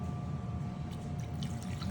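Water pours steadily into a pan of pasta for a seafood dinner, a continuous close trickle and splash with no talking.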